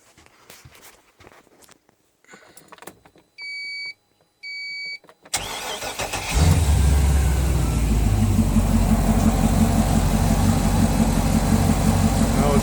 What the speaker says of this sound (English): So once your hose is submerged, you can go ahead and start the boat.